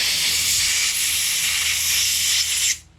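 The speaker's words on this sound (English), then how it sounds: "blew the whole thing out with compressed air as well" Compressed air blasts a steady, loud hiss through a Smith & Wesson M&P 15-22 rifle, held for nearly three seconds with a faint low hum underneath, then cut off abruptly at the end.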